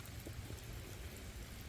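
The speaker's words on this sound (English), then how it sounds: "once the rain stops" Steady rain falls outdoors on the grounds of the Althorp Estate, a faint, continuous patter of drops with a soft low wash underneath and no talk.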